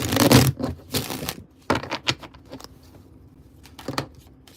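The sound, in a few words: shuffling tarot cards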